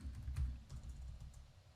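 Quiet, steady tapping of keys on a computer keyboard, a soft run of close clicks with no voices.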